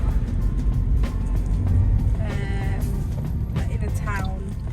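A Toyota Yaris 1.3 petrol manual idles quietly as a steady low rumble throughout, while someone talks over it close by.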